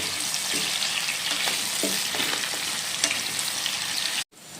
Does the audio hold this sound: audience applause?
no